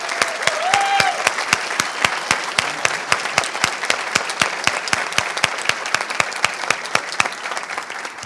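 Steady, dense applause from a large audience at an innovation and startup industry forum, loud and sustained throughout with sharp individual claps standing out, a brief whistle or cheer near the start.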